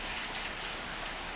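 Heavy rain pours down in a dense, loud, continuous hiss that fills the whole moment with no other sound.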